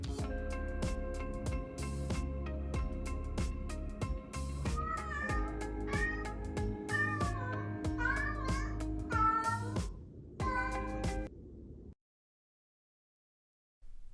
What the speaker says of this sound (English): First 10 minutes he was desperately meowing